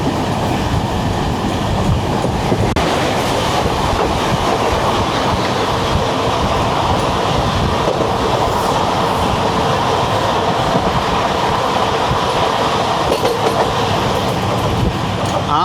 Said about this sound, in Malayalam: പരശുറാം വരുന്നുണ്ട്